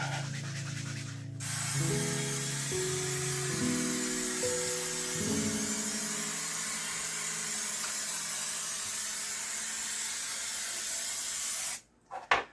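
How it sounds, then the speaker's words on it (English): A long, steady hiss of non-stick cooking spray coating a mini muffin tin runs for about ten seconds over soft background music, then cuts off abruptly. "I have some non-stick spray"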